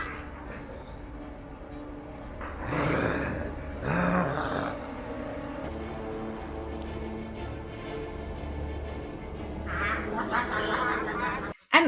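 A duck gives odd, raspy, groaning calls rather than normal quacks, a few separate bursts against a low background hum.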